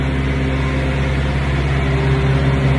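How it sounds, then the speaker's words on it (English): A refrigerated trailer's reefer unit runs with a steady, droning mechanical hum at close range, constant and unbroken with no voices. "Reefer units, refrigerated trailers."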